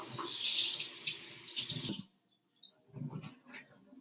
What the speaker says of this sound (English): Don't forget to rinse the towel.